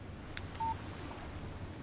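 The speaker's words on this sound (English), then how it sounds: "Text message from Barry." Phone text message alert chiming once in Alan Wake, a short steady beep tone preceded by a couple of brief higher blips, faint over a low background hum.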